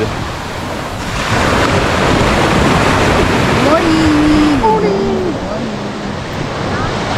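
Ocean surf at La Union, Philippines, roars and washes steadily, with wind buffeting the microphone and a faint voice-like tone rising briefly in the middle.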